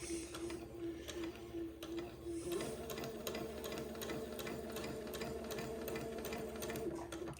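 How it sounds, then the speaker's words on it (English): A domestic sewing machine runs steadily, stitching a line of basting thread a quarter inch from the bottom edge of a baby gown sleeve, with a fast, even rhythmic chatter up close after a quieter start. "I'm going to sew at about 1/4 of an inch away from the bottom of the sleeve"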